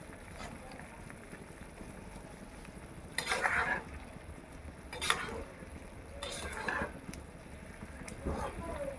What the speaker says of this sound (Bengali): গুড়টাকে ভালো করে মিশিয়ে দিতে হবে চারটির সঙ্গে